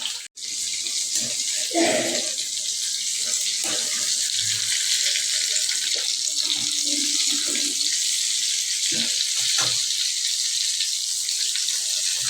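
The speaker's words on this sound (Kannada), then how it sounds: "ಚಮಚ ಹಸಿ ಐತಿ ಚಟ್ ಚಟ್ ಅಂತ ಸೌಂಡ್ ಬರಕತ್ತ" Hot cooking oil sizzles in a steady, loud hiss with scattered crackling spatters from a wet spoon, and a voice is faintly heard at moments.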